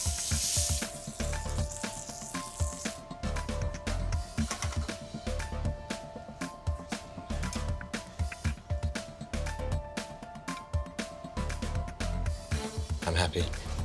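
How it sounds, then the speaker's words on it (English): Reindeer meat sizzles and spits steadily in a hot pan in a kitchen, cooked like venison, a continuous crackling fry with dense pops throughout, under background music. "frying the reindeer, which should be cooked just like venison"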